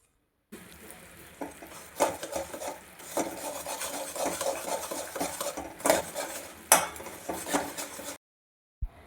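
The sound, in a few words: stirring jaggery in ghee in a pan for peanut chikki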